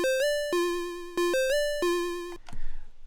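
Chiptune notes from a Dirtywave M8 tracker with pitch vibrato, a bright buzzy square-like tone stepping through a short repeating melody of about six notes, each wobbling slightly in pitch, ending in a brief noisy burst.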